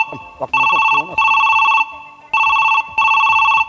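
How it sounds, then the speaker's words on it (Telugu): A telephone rings loudly and close in repeated electronic bursts with short pauses between them, and a voice speaks briefly just before the ringing begins. "ఒక్క నిమిషం ఫోన్ వస్తుంది"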